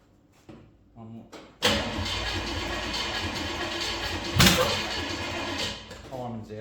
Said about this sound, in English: just by listening to the way that that car's turning over, I should have realised I've got the timing wrong